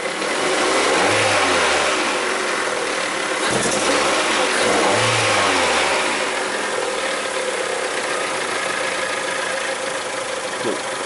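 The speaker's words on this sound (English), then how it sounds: "Now when I rev it up, and like on a D cell, the valve should open up more." A 2003 Mazda Protege with a misfire at idle is revved twice, its engine climbing and falling back over a constant loud mechanical drone, heard close up with no talking.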